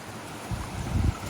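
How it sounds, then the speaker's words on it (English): A small waterfall roars close by in a steady, loud, wind-buffeted rush of water, with heavier low rumbling surges partway through. "this big waterfall is making a terrible noise"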